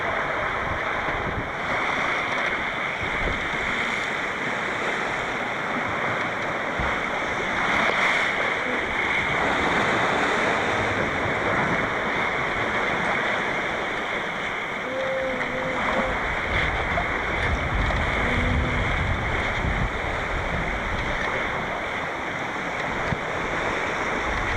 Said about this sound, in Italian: Finalmente cominciamo a assaggiare le onde dell'Atlantico.